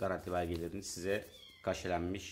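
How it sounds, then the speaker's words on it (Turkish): Office cats meowing in the background, faint and intermittent beneath someone talking steadily in the foreground. "Arka planda kedilerimizin seslerini duyabilirsiniz."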